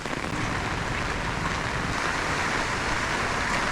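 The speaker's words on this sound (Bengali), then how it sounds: "এখন বৃষ্টি চালু হয়ে গেছে দেখো খুব বৃষ্টি শুরু হয়ে গেছে" Dense, continuous hiss of heavy rain pouring down at the temple grounds in Mayapur, steady and loud with no pauses.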